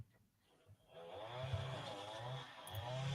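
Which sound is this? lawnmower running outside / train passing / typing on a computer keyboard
lawnmower running outside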